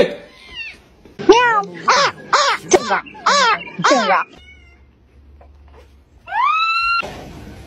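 A cat lets out a rapid string of loud, insistent meows, pauses, then gives one long drawn-out meow, close and clear.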